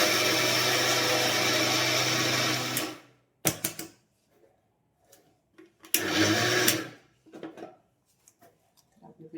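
A mixer grinder powders sugar with a loud, steady whirring for about three seconds, then stops, followed by a few short bursts and later another brief grinding run, with quiet handling noises between.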